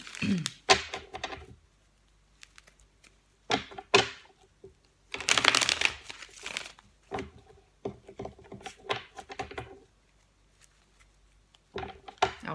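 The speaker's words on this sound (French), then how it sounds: "Je vais juste reculer un peu les cartes pour sortir la suite." Tarot cards being handled and shuffled, heard as irregular bursts of papery rustling and soft flicks spread through the passage, with quiet gaps between.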